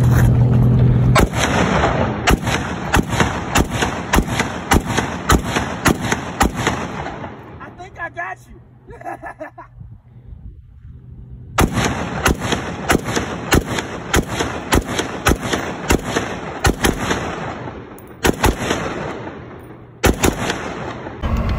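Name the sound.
gunshots from a Pioneer Arms Hellpup pistol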